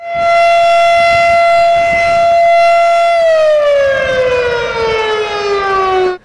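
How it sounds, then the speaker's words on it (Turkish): A civil defense siren test sounds through the streets of Ordu, Turkey, ahead of the 10 November Atatürk commemoration: one loud, steady wailing tone that holds, then slowly slides downward before cutting off. "bugün Ordu'da siren çaldı."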